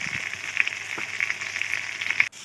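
Village-style chicken meat sizzles with turmeric in a pan, a close steady frying hiss with small popping crackles and faint stirring, ending in an abrupt cut.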